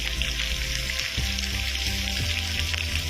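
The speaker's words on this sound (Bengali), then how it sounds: "এখন আলু পেঁয়াজ এটি ভাজা চলছে আমাদের" Potatoes and onions frying in a pan for a fish curry, a steady loud sizzle running throughout with a few soft stirring knocks and a low background hum.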